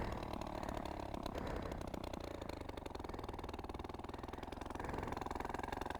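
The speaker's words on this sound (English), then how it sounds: "It's idling!" A 1960s moped engine idles loudly and close, a steady buzzing putter that runs unbroken throughout.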